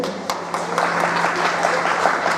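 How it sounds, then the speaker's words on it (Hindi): An audience at a community event marking Ambedkar's 130th birth anniversary in Chamba applauds steadily, a continuous moderate patter of many hands heard from some distance. "तालियां तालियां बजाते रहे।"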